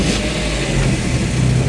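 An Opel Speedster sports car engine runs steadily with a low rumbling drone as it drives off, close by and loud, with no voices over it.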